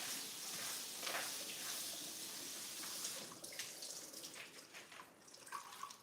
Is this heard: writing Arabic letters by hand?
no